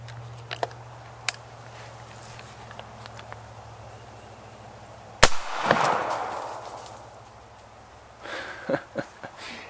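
A single 300 Blackout round is fired into layered denim, a fence board and a clay block: one sharp, loud crack midway, with quiet clicks and handling sounds before and after.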